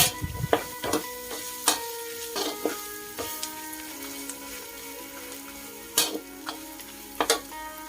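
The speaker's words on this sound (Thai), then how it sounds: "ผัดไปเรื่อย ๆ ผัดไปสักแป๊บหนึ่งผัดให้หมูสามชั้นกุ้งแห้งพริกแกงเข้ากันดีก่อนค่ะ" Pork belly, dried shrimp and curry paste are stir-fried in a pan for a sweet corn dish, with a soft sizzle beneath repeated sharp scrapes and clinks of the spatula at an irregular rhythm.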